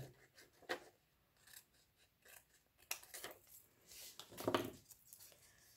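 Scissors roughly trim paper for sweet box pockets, giving faint, close, irregular snips and rustles.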